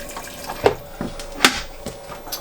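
Water spraying and splashing through an RV shower during winterization, a steady wash with a few sharper spurts and drips, close by in a small enclosed space.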